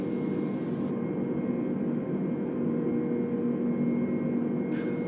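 Airbus A320 jet engines automatically spooling to maximum thrust, a loud, steady, broadband roar with a faint tonal whine that holds throughout, with no voices.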